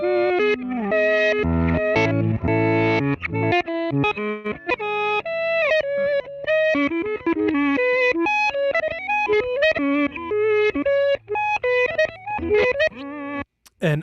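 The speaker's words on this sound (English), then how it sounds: "So there's no dry guitar in that, which is why you're only hearing the reverse." An electric guitar runs through a reverse delay set fully wet with one feedback repeat, so only the reversed signal sounds: dense swelling chords and notes that fade in backwards, loud and continuous with no spoken voice.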